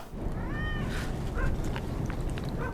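A cat meows once in a short, clear call from a TV drama episode, standing out over steady low background noise, with brief softer mews and scraps of sound afterward.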